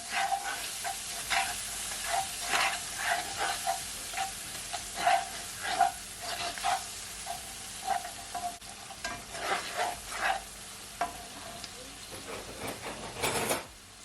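Vegetables and seasoning fry in a pot for a corned beef and rice dinner, with a constant sizzle broken by repeated scraping stirs and light utensil knocks against the pot, close and continuous.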